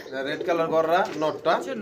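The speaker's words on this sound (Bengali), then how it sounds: "চমৎকার এক জোড়া জনপ্রিয় কবুতর" Soft, low cooing from a pair of pigeons in a few rolling phrases, close by and fairly loud.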